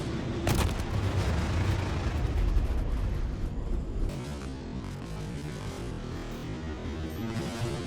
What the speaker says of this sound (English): Wait, what? Is that a missile?